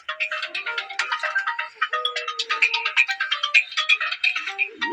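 A phone ringtone plays for an incoming call: a bright, fast repeating electronic melody of quick rhythmic notes, loud and close, with no voices over it.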